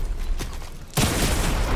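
Video game gunfire bursts in after a quieter stretch, a dense rapid volley of shots that continues loudly to the end, close and alone without talk.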